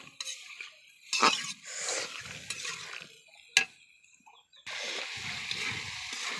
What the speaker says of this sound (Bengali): আমি একটু পানি দিব আর একটু কষাবো।